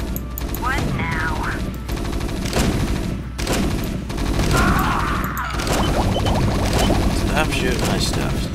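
Rattling gunfire and impacts from units battling in the real-time strategy game StarCraft, dense and continuous, mixed with game unit voices and sound effects.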